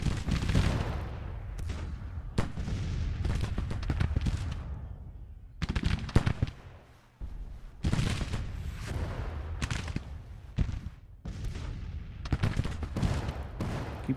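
Rifle volleys and artillery in a Grand Tactician Civil War battle crackle in dense, continuous bursts, rolling gunfire with heavy booms and brief lulls, loud and sustained without pause.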